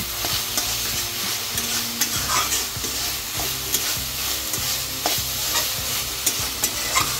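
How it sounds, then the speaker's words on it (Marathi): Red amaranth greens stir-fried in a pan, a steady close sizzle broken by rhythmic scraping and tossing strokes of a spatula every half second or so, with no talk. "आता आपण जरा भाजी परत परतून घेऊया"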